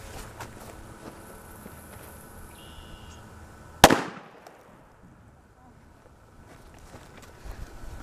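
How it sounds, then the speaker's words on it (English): A standard 2-inch red firecracker goes off outdoors, a single sharp loud bang with a short decaying echo, preceded and followed by quiet wind and faint shuffling. "First, I have a standard issue 2-inch cracker for comparison."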